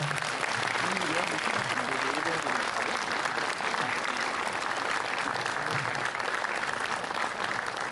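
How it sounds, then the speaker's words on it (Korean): A cinema audience applauds the director and actors of the film Guihyang arriving for a stage greeting at Lotte Cinema World Tower, a sustained, even wash of clapping that fills the whole stretch. "큰 박수로 맞이해 주시면 감사하겠습니다"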